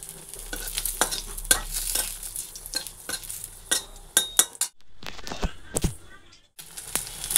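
Radhuni seeds, a dried red chilli and a bay leaf temper in hot oil left from frying pointed gourd, a close crackling sizzle broken by sharp clinks of a spoon stirring against the pan.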